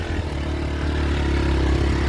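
A motorcycle carrying passengers along a waterlogged road in rainy North Bengal, its engine a steady, close, continuous drone with low rumble and no pauses.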